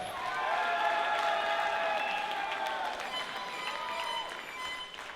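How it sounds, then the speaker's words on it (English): A wrestling event crowd applauds and cheers for a champion wrestler, a broad wash of clapping with some whistles and shouts in the mix, swelling early and slowly tapering off. "let's all give Titus an applause"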